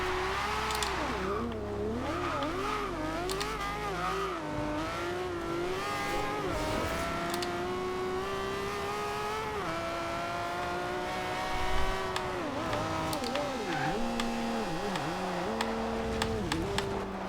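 Engine of a 2010 Aston Martin One-77 in the racing game Forza Horizon 2, droning steadily as it revs up and down through gear changes, with a brief tire squeal partway through and no voices.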